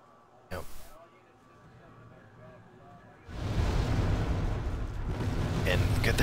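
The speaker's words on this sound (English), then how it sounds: "We're gonna bring artillery in. Probably airstrikes." Artillery and bomb runs in the video game Wargame AirLand Battle: one sharp boom, a quieter lull, then a sustained heavy rumble of explosions continuing to the end, with talk over it.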